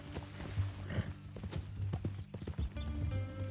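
Horse hooves clip-clop steadily in Red Dead Redemption 2, a run of close, distinct hoofbeats over a low ambient hum, with a brief whinny-like tone near the end and no talk.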